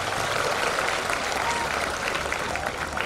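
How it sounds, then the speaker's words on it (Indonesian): A large crowd of new university students claps together at a military-led national awareness session in a hall, a thick, continuous wash of applause at steady volume with no break. "Tepuk tangan untuk kita semuanya"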